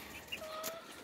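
A black hen gives a few soft, short clucks close by over a quiet farmyard background.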